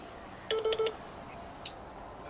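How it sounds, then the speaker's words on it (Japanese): Telephone keypad dialing tones: three quick, clear beeps in a row, then a fainter single tone, all heard alone against a quiet room. "ちょっと電話するわ、 はい、 高橋君に"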